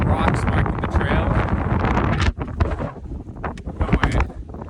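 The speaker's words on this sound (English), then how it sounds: "Yeah, it's definitely getting windy." Strong wind on a rocky mountain trail buffets loudly, a heavy roaring gust that drops off sharply midway, then comes back in uneven bursts, while a person talks nearby.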